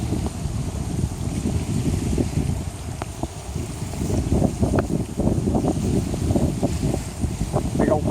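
Strong, relentless evening wind sweeping over Kentucky Lake around a moored boat, a steady, close rumble and buffeting that fills the whole stretch without letup.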